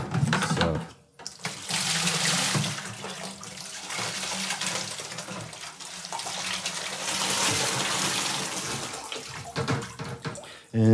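Water gushing and pouring continuously into fermenting buckets during homebrew pale ale sanitization, a loud, close rushing splash with a brief break near the start.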